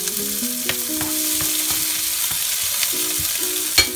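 Chopped green pepper and green onion sizzle steadily in a hot pan, a continuous loud frying hiss with occasional scrape and stir clicks, no talking.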